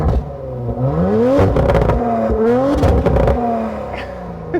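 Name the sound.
Audi RS4 2019 revving with sports exhaust in sports mode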